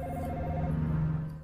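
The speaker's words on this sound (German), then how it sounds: "Lülülülüt. Telefon." A telephone in Dino Crisis rings with a faint electronic trill under a steady low game drone. The ring fades after a moment while the hum carries on.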